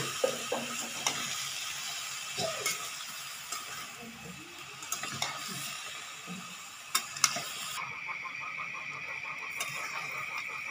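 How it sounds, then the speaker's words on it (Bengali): A vegetable curry of pumpkin shoots, eggplant, beans and potato with dried puti fish is stirred in a pan, giving soft intermittent scrapes and clicks over a faint low sizzle, fairly quiet throughout. "একটু ভালো করে শুটকিগুলো মিশিয়ে নিতে হবে।"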